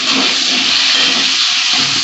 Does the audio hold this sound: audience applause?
no